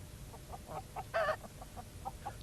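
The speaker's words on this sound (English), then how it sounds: "At Intake Farm, George Lancaster showed Pat his special prize hens." Prize hens on a farm give soft, scattered clucks, a run of short quiet calls with one brief louder squawk in the middle, heard close with no talk.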